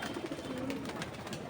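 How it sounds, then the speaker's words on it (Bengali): Racing pigeons released in a loft area cooing softly, a brief, low murmuring coo close by over a faint steady background. "বেশিরভাগ কবুতর এইখানে আছে"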